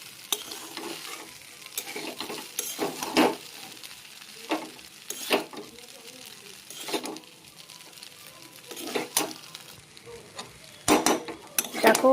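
Veg chowmein stir-fries in a hot pan with soy, chili and tomato sauce, a steady sizzle broken by repeated scrapes and clanks of a utensil against the pan.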